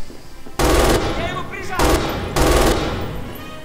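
An MG 42 machine gun in Red Orchestra 2 fires three loud, close bursts of very rapid automatic fire, with someone talking quietly between the bursts.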